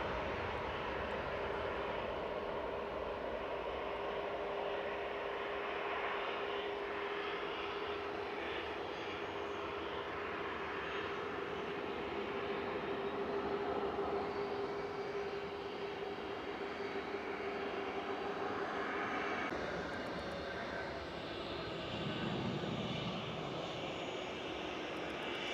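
A Hainan Airbus A330-300 widebody arriving at Manchester Airport from Beijing gives a sustained, moderately loud jet drone with a steady tonal whine, swelling slightly mid-way and easing toward the end, with no talking.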